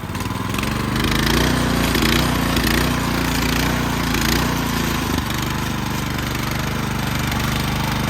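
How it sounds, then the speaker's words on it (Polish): Weima WM50 rotary tiller's small warmed-up petrol engine revving up, a loud, close mechanical roar that rises and holds steady, then settles back toward a lower running drone near the end. "Wystarczy poczekać koło minuty silnik już się zagrzał, możemy teraz śmiało zwiększyć obroty."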